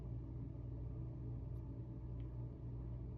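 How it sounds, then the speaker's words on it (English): A faint, steady low engine rumble carries from outdoors at a distance, continuous and unchanging through the short stretch. "There's an engine sound outside that sounds synced right now."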